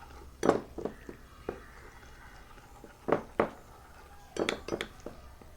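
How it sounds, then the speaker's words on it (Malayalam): A spoon clinks against a bowl while custard powder is stirred into cold, unheated milk, giving a few scattered taps and scrapes in short clusters with quiet gaps between them. "കസ്റ്റാർഡ് പൗഡറും പാലും നന്നായിട്ട് ഇളക്കി മിക്സ് ചെയ്ത് വെക്കുക"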